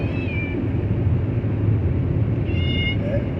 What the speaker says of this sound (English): Hey Kitty, you want to say hi?